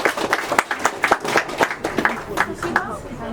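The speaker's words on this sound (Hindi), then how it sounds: "तालियां हो जाए इस परिवार के लिए।" Guests at an engagement celebration clap for the host family, a lively round of close, rhythmic hand claps from a small crowd, steady and loud with murmured voices underneath.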